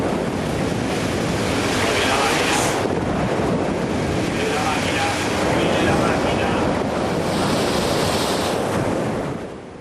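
Rough seas of 4.5-metre waves and 45-knot wind batter a ship, giving a continuous, loud roar of surf and wind buffeting that stays steady throughout with no clear breaks.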